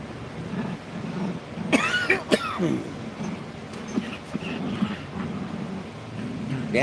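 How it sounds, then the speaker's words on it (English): A person coughs a few times in quick bursts, a sharp cluster near the middle over a murmuring indoor background. "don't know why I'm coughing all of a sudden."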